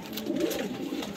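A flying pigeon coos close by, a short, soft, throaty rolling call.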